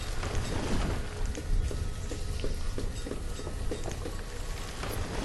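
Rain falls in the village-building game Banished, a steady crackling patter of drops with scattered light ticks, close and even throughout, with no talking.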